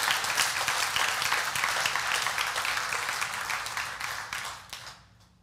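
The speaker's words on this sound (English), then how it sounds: "you should clap if you want to" An audience claps and cheers in a loud burst that gradually thins out and fades to quiet within a few seconds.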